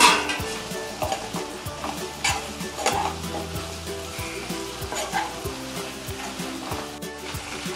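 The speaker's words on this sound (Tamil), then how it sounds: "வெண்டைக்காய் வதங்கியாச்சுங்க." Okra with tomato sautéing in a pan for a masala: a steady close sizzle broken by repeated rhythmic scrapes and stirs of a spatula against the pan, with no one talking.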